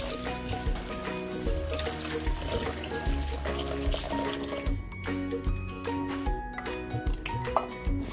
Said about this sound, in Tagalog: hugasan mo sa tubig